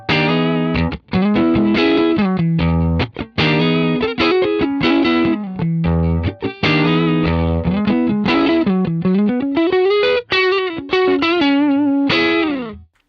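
Electric guitar played through an Axe Fx III Fender Brownface amp model with York Audio cabinet impulses, a driven, slightly broken-up tone with chorus-like shimmer, strummed chords and single-note runs filling the clip loudly with brief gaps.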